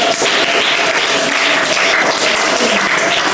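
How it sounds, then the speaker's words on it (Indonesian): Applause from a classroom group acknowledging the first student group after an Islamic education lesson, a steady dense clapping that fills the whole stretch at close range without talk. "Kita kasih aplaus buat kelompok 1."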